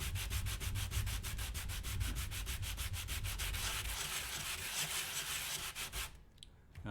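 Thin pine sanded by hand with 120 grit sandpaper gives close, rhythmic scratching strokes in a steady back-and-forth rhythm, roughly three to four strokes each second, that stop abruptly near the end.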